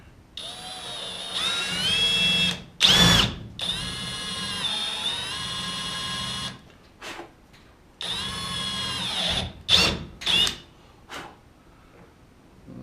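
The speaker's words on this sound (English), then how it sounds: "We'll go ahead and get this drilled out here." A power drill bores a hole in a part on a 1987 Jeep Comanche, whining in several close bursts of varying length with stops and brief restarts between them.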